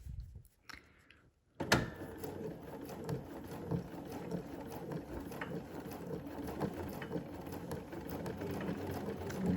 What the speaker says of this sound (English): I'm going to try to keep this little side of the presser foot lined up with this seam line right here as I go around.